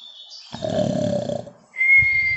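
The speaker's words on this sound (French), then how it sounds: "j'entends ronfler quelqu'un" Snoring, a deep rasping inhale followed by a whistling tone, in a short cartoonish pattern with no talk.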